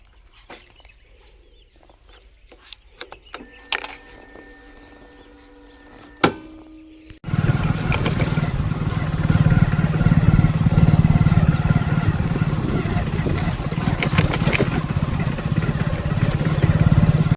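A motorcycle engine starts up after a quiet stretch of scattered clicks and knocks, then runs loud and steady close by for the last ten seconds as the rider sets off to fetch snacks from a shop.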